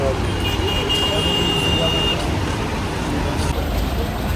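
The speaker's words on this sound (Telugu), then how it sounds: "అమ్మో ఏం ట్రాఫిక్ ఇది." Congested road traffic in Manali hums steadily with engine rumble, and a short high beep rises above it partway through. Voices can be heard in the vehicle.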